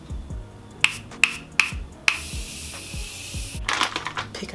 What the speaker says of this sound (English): I'm gonna spray a little bit more mist